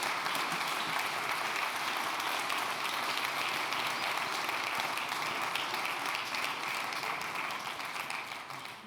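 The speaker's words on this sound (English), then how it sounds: "Please give her a loud round of applause once again." An audience at a circular economy festival gives a sustained round of applause, dense steady clapping heard alone at moderate level for nearly nine seconds, easing slightly toward the end.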